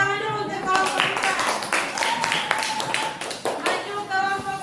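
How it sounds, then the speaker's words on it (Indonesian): A school class claps for a student group that has presented a plastic-bottle project, a brisk burst of many hands with children's voices and talk mixed over it. "Tepuk tangan dulu untuk kelompok 2."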